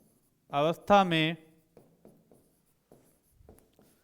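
During a chemistry lesson, someone speaks briefly, then a series of soft, short scratchy writing strokes follows with quiet pauses between them.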